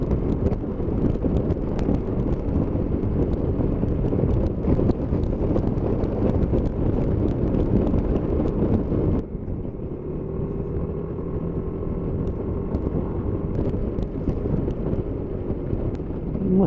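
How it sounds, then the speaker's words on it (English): Strong wind buffets the microphone on an exposed moorland hilltop at Holme Moss. The roar is loud, dense and continuous, and it eases slightly partway through. "It's a bit breezy up here, which I suppose it is expected."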